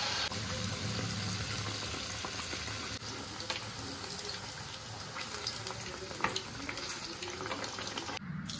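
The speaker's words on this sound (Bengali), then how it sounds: "আমি এবার কড়াইতে দিচ্ছি, তেলটা গরম হয়ে গেছে" Malpua batter hits hot oil in a wok and fries with a steady, dense sizzle, close and continuous, with small crackles and pops scattered throughout and no talking.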